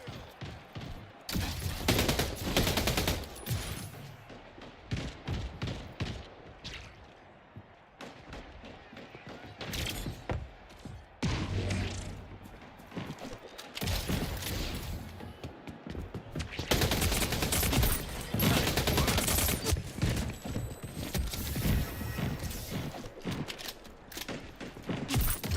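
Machine gun fire from the video game Splitgate 2, dense sustained bursts of rapid gunfire with thuds and mechanical clicks, loud and nearly continuous through the whole stretch.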